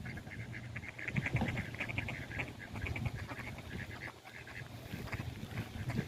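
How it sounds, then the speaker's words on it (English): Ducks and geese squabble in a noisy, continuous chorus of quacks and honks, close by and overlapping, with rapid bursts throughout the outdoor scene after a hurricane. "Duck riot."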